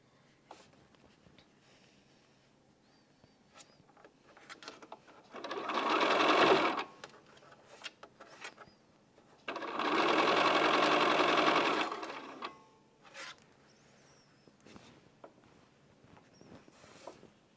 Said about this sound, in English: Now I'm going to finish sewing these like I did the others